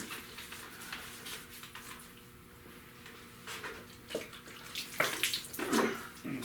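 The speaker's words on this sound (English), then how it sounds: "I'm gonna soak this pad down." Running water splashing onto and soaking a scuff pad used to dye a car seat belt, a steady close trickle rising into heavier splashes toward the end.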